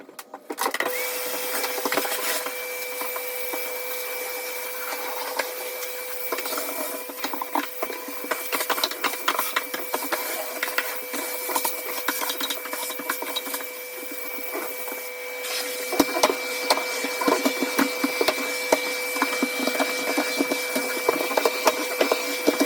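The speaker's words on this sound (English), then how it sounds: "So I'm going to use a hoover to clean all of it up, hoover it out" A hoover runs steadily for the whole stretch, sucking up dead bed bugs during a post-infestation clean-up, with a constant motor whine and scraping, rubbing rattles as the nozzle moves over surfaces, loud and close.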